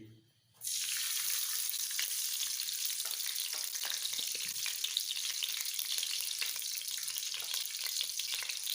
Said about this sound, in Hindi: सबसे पहले हम डाल रहे हैं घी